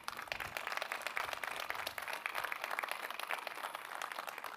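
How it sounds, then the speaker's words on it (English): A crowd at an outdoor memorial anniversary celebration for disabled veterans applauds steadily for several seconds, a dense, even wash of many hands clapping at a distance, fairly quiet and unbroken. "Let's please give them a warm round of applause."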